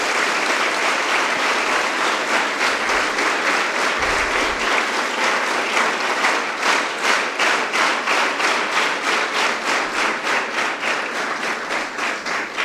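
An audience at a school investiture ceremony breaks into a long, loud round of applause, dense at first and settling into a more rhythmic, even clapping toward the end.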